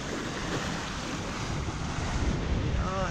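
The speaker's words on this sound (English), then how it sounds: "We are having quite a nice little sail. Just come out of Huntington Bay." A Hallberg-Rassy 54 sailboat under sail just out of Huntington Bay, heading east down Long Island Sound, with a steady rush of wind and water along the hull and heavy wind buffeting on the microphone.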